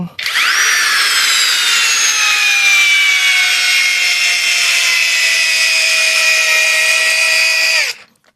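A Masaru SCDS-175 cordless clutch screwdriver in gear one, drill mode, drives a screw with a loud, close, continuous motor whine that slowly drops in pitch under load for about seven seconds before cutting off.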